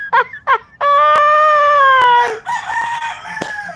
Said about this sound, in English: rooster want his voice to be heard.